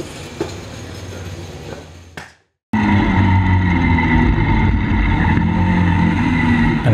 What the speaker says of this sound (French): Je vous embarque avec ma Caterham Road Sport numéro 24 faire un tour du circuit de Spa-Francorchamps